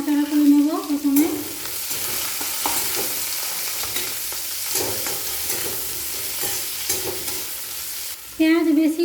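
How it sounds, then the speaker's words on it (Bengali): Chopped onion stirred and frying in hot oil in a pan, a steady loud sizzle with scraping stirring strokes throughout, briefly joined by a voice at the start and end. "তেলের মধ্যে পেঁয়াজ কুচি নাড়াচাড়া করে নেব"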